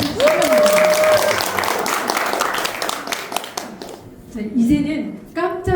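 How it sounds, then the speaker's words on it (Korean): Audience clapping at a book launch event for a local history journal, dense and steady for several seconds under a speaking voice before fading into talk. "그래서 무섭게 한번 박수."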